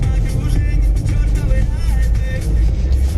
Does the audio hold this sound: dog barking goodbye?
no